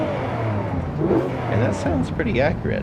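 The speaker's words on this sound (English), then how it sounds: "You can kind of hear as I'm accelerating there." A Porsche 997 GT3 in Forza Horizon 5 accelerates with a rising, revving engine note and induction growl, heard close under a voice talking over it.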